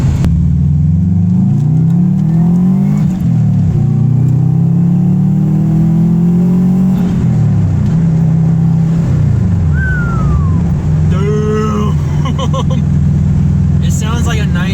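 A 2002 Subaru Impreza WRX with a DNA Motoring turbo-back exhaust rumbles deep and loud from inside the cabin, its engine note rising and falling through several gear changes, with a faint squeak near the end.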